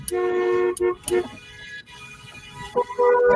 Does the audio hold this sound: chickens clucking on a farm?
no